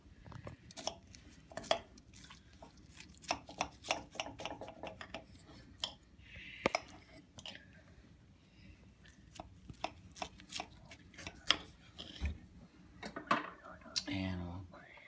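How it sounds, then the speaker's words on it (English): A knife cuts into a homemade beef pot pie made from leftover pot roast, giving soft crunching and chopping sounds through the crust in irregular bursts, with faint talk and quiet clinks in between. "so now I'm gonna slice into it"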